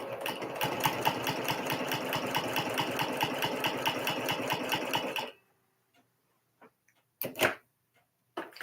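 A domestic sewing machine stitches fabric in a fast, even mechanical chatter for about five seconds, then stops, leaving near silence broken by a few soft handling clicks and rustles.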